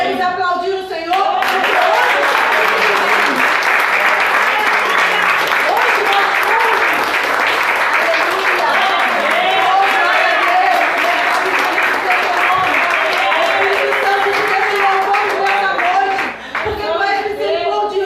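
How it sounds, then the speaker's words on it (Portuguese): A church congregation breaks into loud, sustained applause that fills the room for well over fifteen seconds with a dense, even roar of many hands. "Podemos aplaudir o Senhor?"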